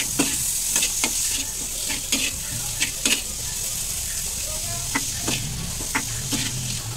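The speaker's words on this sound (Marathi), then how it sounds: "वॉश केलेली स्वच्छ धुवून घेतलेली कोळंबी आपण याच्यात टाकूयात." Washed prawns fry in masala in a pan, a steady close sizzle broken by frequent sharp scrapes and clicks of a spoon stirring against the metal.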